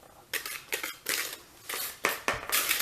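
Whisk or spoon scraping and clinking against a bowl while vanilla cake batter is mixed, in several bursts of brisk strokes separated by short pauses, close and fairly loud, with no talking.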